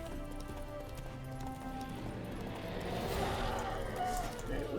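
Roach the horse gallops in Witcher 3: Blood and Wine, a steady run of hoofbeats heard under someone talking, growing slightly louder toward the end.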